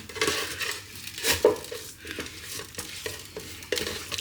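A spoon scrapes and stirs pork rub and stuck bits across the bottom of a Ninja Speedi pot, making repeated close scraping strokes over a faint sizzle, with no talking.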